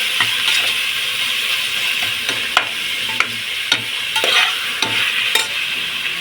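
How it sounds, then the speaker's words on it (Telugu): Chicken biryani masala fries in a pan with a steady loud sizzle, while a spoon stirs and scrapes, giving occasional clinks and knocks against the metal. No one speaks. "ఇదండి వేగిపోతుంది"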